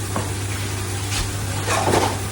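Mutton biryani mix frying with tomatoes in a pan, a steady close sizzle with faint stirring scrapes and no talk.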